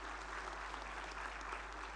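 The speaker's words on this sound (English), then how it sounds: "Let's have a huge round of applause, ladies and gentlemen." An audience at an international drug regulatory conference applauds during an award felicitation, steady crowd clapping heard from a distance over a constant low electrical hum, with no speech.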